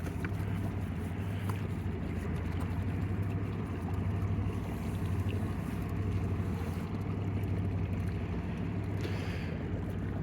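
A houseboat outboard motor runs steadily in shallow water less than six inches deep, a continuous low droning hum with water wash over it, constant throughout with no speech.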